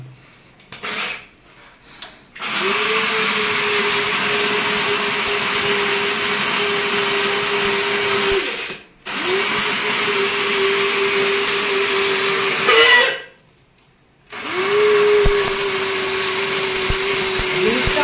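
A small electric grinder whirs loudly while grinding dry lentils into besan flour, running in three long bursts with a steady high whine, separated by short pauses and brief rattling stops.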